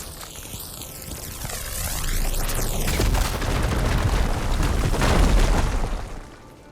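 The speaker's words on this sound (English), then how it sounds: "Should be able to blow up that fire gleam." In Horizon Forbidden West, a fire gleam is blown up with a rushing, sweeping whoosh that swells into a loud, rumbling explosion, then rolls on as a sustained blast before fading out.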